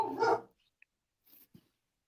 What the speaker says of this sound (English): Whose damn dog's barking?